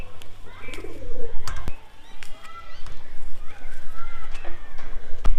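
Pigeons, including Madras breed birds, coo softly and repeatedly inside a coop, with scattered chirps and brief knocks and rustles at close range, alone without talk.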